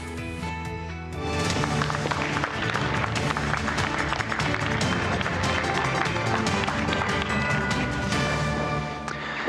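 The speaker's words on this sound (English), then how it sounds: "Thank you for the enormous applause" Audience applause at a design summit welcomes a speaker to the stage: dense, sustained clapping from a large crowd starting abruptly after a second and holding steady and loud to the end.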